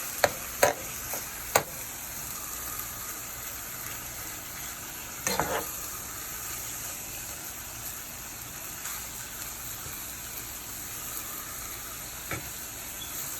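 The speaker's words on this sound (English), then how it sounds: "Okay, so as you can see, it's frying up." Steady sizzling of ground beef with garlic frying in a pan, a continuous crackle with a few sharper pops and clatters of a utensil stirring.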